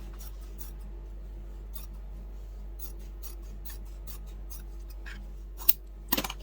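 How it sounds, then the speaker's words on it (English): Scissors snip through folded fabric for a rag quilt: quiet, scattered cuts in an otherwise still room, with a few sharper, louder clacks of the blades near the end. "you're going to grab your scissors, and like we did the first time, we are just going to cut on that fold."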